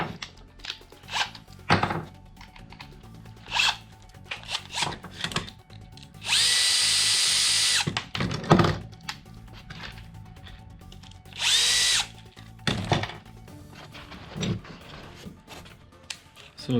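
A power drill drives screws into a plastic mount on a non-VESA monitor, with two sustained whirring bursts among clunks, taps and handling knocks, close and fairly loud.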